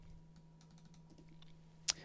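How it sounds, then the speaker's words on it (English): Computer keyboard keys struck hard, typing faintly in a quiet room with a PC running, ending in one sharp, louder click. "I'll just do a quick keyboard check. I'm hitting the keys quite loudly."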